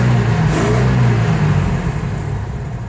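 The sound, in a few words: 1977 Ford F-350 wrecker engine running, PTO not engaging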